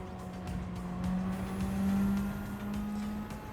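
A race car engine in Gran Turismo 7 at Brands Hatch drones steadily near and loud, its pitch swelling and easing slightly as the car powers through a corner, with no talk.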